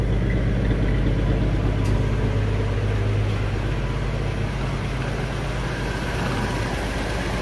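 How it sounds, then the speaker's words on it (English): A Holden EJ car engine, under restoration, idles steadily and loudly up close, a constant low rumble with no speech. "I fired up the engine yesterday"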